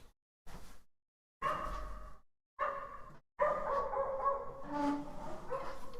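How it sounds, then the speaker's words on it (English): A dog barks from another floor of an apartment building, several bursts with short silent gaps and then continuous excited barking and yipping, muffled and moderately loud indoors. "this dog that's been barking on another floor here in the apartment"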